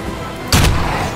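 A single loud gunshot in Evil Dead The Game, a sharp blast halfway through followed by a brief echoing tail, with no talking.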